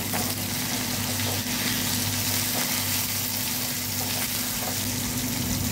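Onions frying in oil for a dry fish curry, a dense continuous sizzle with a steady low hum underneath, close and unbroken throughout.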